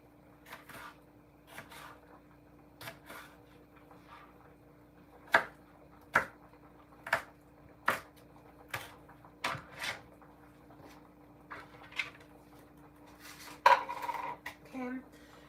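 A knife chops a single bell pepper on a cutting board in a home kitchen where breakfast potatoes are boiling, giving a series of sharp, uneven knocks at close range over a steady low hum.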